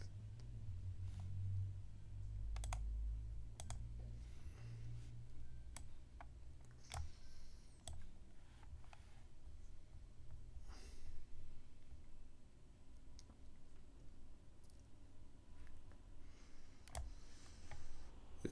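Computer mouse clicking while working in an Excel spreadsheet, a scattering of faint, sharp clicks at irregular intervals over a low, steady background hum.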